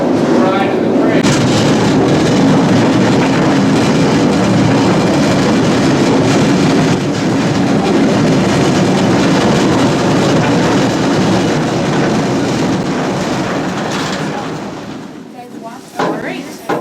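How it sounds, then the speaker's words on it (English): A passenger train ride on a group outing produces a loud, continuous rumble of wheels and carriage noise that holds steady, then thins out and drops near the end. "So we ride in the train."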